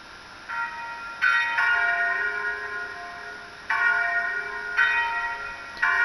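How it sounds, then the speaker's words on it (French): Bells 2 and 3 of St Vincent church in Mâcon ring out in repeated, overlapping strikes, their tones sustaining and humming between hits, heard alone at a moderate distance, with a faulty control panel. "Ce jour-là, les curés ont dû lancer les cloches 2 et 3."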